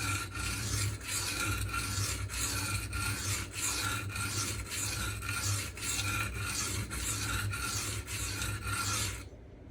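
Magnacut steel knife blade rasping steadily across a coarse Shapton Pro 120 sharpening stone, a continuous loud gritty scrape with rhythmic back-and-forth strokes, close up, stopping abruptly at the end.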